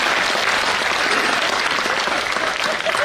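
Dense, steady applause from an audience at a comedy poetry gathering fills the full three seconds, loud and close, with no pause or talk over it.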